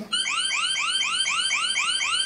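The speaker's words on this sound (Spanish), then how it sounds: "Y la alarma se activa. Y va a sonar," Alarm from a cheap smart wall switch, a loud electronic siren of rapid repeating rising sweeps, around seven in quick succession, sounding alone without talk.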